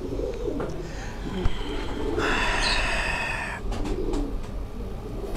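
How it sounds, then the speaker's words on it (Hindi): A Teddy breed pigeon on a Karachi rooftop gives a soft, low coo, with a brighter burst of calling in the middle of the stretch against steady outdoor background noise. "ये टैडी ब्रीड का ये कबूतर आपको दिखाया जा रहा है।"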